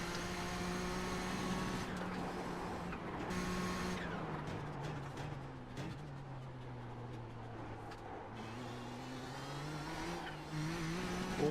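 A Nissan GTP turbo race car in iRacing drones through its gears, the engine note rising and falling with shifts, joined by tire noise and turbo whine, loud and close throughout.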